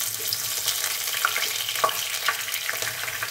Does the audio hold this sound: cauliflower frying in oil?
yes